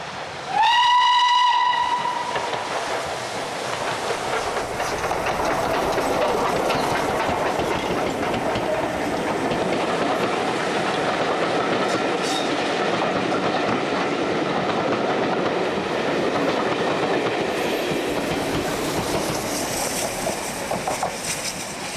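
A heritage service train banked by a saddle tank steam locomotive on the East Lancashire Railway opens with a loud whistle, then a sustained rumble of wheels and clickety-clack as carriages pass close by for a long stretch.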